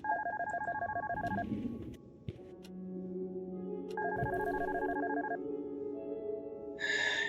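An electronic device beeps in the detective horror video game Darkness Within, repeated rapid electronic beep bursts in two clusters with tonal hums between, clear and close, plus a short higher chirp at the end.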